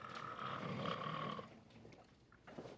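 A man snores nearby with a rough, rumbling drawn breath that fades out, then starts to rise again faintly at the end, with no talk over it.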